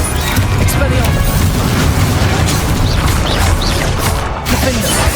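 Spell impacts and explosions in the Hogwarts Legacy video game, loud continuous booming and crashing bursts over dense combat noise, with voices shouting spell names throughout.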